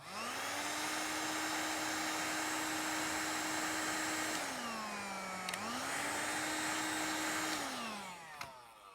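A heat gun shrinks heat-shrink tubing over electrical connections while a sound decoder is installed in a model Hogwarts Express locomotive. Its motor gives a loud steady whine and airy rush that sags in pitch twice before winding down near the end.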